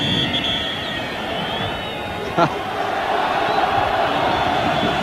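Stadium crowd noise at the 1986 World Cup football match between Morocco and Germany, a broad continuous roar that swells slightly after a sharp thud, with a commentator talking over it.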